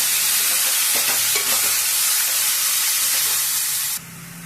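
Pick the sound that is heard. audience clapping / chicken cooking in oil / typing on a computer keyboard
chicken cooking in oil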